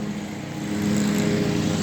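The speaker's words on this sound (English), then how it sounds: "there was one lawnmower on straight ahead. Now I got one on this side" A lawn mower engine drones steadily nearby outdoors, a constant low hum that swells slightly louder midway, with no talking.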